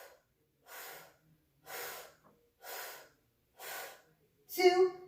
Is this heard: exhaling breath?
yes